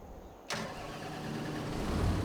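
A Valtra tractor engine cranks and fires in Farming Simulator, catching abruptly and settling into a steady, loud diesel idle up close.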